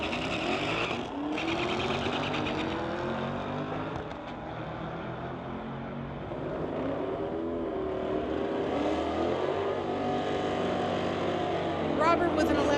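A 2016 Mustang and a 2018 Camaro ZL1 drag race at a street-legal event, engines roaring steadily and sweeping in pitch as they pass, heard over a track announcer talking.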